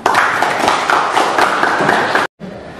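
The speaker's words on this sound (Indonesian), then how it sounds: "Tepuk tangan untuk Noval." Classroom applause for a student during a poultry farming lesson: dense, steady clapping from a group of people, fairly loud and continuous for about two seconds, then cut off abruptly before a quiet tail.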